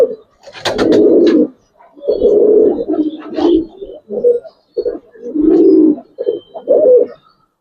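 Giribaz high-flying pigeons cooing in a loft, several loud, close bursts of throaty cooing with short pauses between them.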